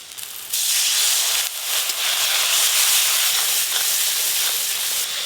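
Water hits a hot pan of mustard paste masala with salt and turmeric in a village kitchen, bursting into a loud, sustained steamy hiss that swells and then settles into a steady sizzle.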